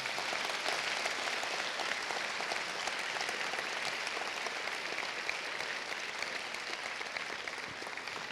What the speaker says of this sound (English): Let's give Gary another round of applause.